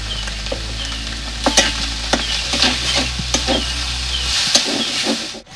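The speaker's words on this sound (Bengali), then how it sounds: "পুরটা ভালো করে একটু ভেজে ভেজে নেব।" Katla fish stuffing fries and gets stirred in a pan: a continuous loud sizzle broken by repeated sharp spatula scrapes and knocks, close up.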